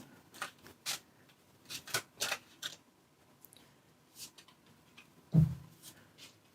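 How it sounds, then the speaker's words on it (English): Tarot cards are shuffled and drawn, giving a series of short, soft papery riffles and slides with quiet gaps, ending in one sharper tap or thump. "let's draw your cards"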